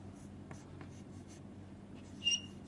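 A marker or chalk scratches across a board during a digital electronics lecture, with quiet, intermittent strokes and a brief squeak near the end, all faint against a hushed room.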